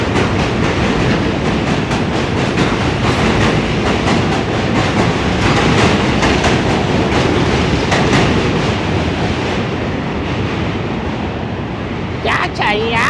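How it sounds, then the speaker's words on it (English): A New York City subway N train rumbles loudly across the Manhattan Bridge with rhythmic clattering of wheels on track, a continuous roar that fades near the end, with people talking over it. "That train is loud."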